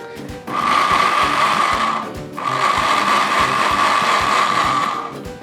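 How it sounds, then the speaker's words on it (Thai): A blender coarsely grinding banana blossom ingredients with vinegar whirs loudly in two bursts, a grinding motor run that stops briefly around the middle, then starts again and winds down. "ก็ใส่ปั่นไปกับน้ำส้มสายชู เราจะปั่นให้แบบแบบหยาบอะ"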